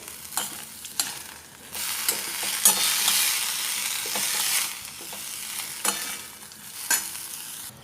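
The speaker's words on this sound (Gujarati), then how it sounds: "બ્રોકોલીને આપણે આ રીતે ત્રણથી ચાર મિનિટ સુધી સાતરવાની છે ફાસ્ટ ગેસ પર" Broccoli sautéing in a pan over high heat, a close crackling sizzle broken by regular scraping stirs and spatula knocks against the pan every second or so.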